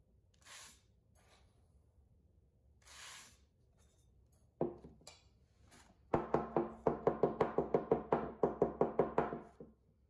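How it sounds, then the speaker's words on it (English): Bottle filled with rice being tapped, a few soft scrapes and a couple of sharp knocks followed by a rapid run of about fifteen close, evenly spaced taps. "It is very important to tap the bottle in between each addition of rice."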